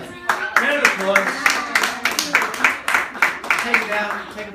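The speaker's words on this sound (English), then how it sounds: "Round of applause." A group gives a round of applause during a public awareness programme drill, a steady burst of many hands clapping close by with rhythmic peaks lasting several seconds.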